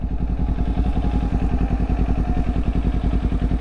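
A motorcycle coasts toward a stop with the clutch pulled in, its engine ticking over at a steady low idle with a rapid, even pulsing throb, close and loud.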